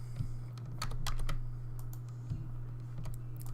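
Typing on a computer keyboard while building a custom website, quiet scattered key clicks in short irregular bursts over a steady low electrical hum, no talking.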